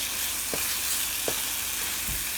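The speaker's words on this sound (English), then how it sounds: "So keep mixing it until it's nicely fried up and the oil separates from the masala." Chicken curry masala with tomatoes sizzling and frying in oil in a pan, a steady close hiss with a few soft stirring knocks, no voices.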